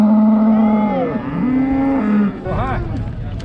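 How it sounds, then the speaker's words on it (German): Cattle low with long, deep moos at a bustling livestock market in northern Iran where cows and water buffalo are traded, several calls overlapping close by over steady crowd noise. "Gehandelt werden vor allem Kühe, aber auch Wasserbüffel."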